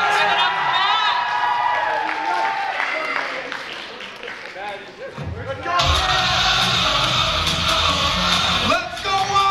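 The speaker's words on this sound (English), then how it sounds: "Everybody give a round of applause." High school Mr. & Miss pageant audience bursting into applause and cheering for a contestant named Matt, a loud crowd roar swelling in the second half with claps and whoops, following an announcer's talk.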